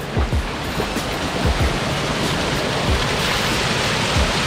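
A desert spring waterfall at Ein Gedi rushes in a dense, constant hiss of falling water, loud and close with no voices over it.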